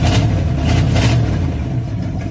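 A carbureted car engine runs loudly close by, a steady low rumbling idle with slight surges, and no voices over it.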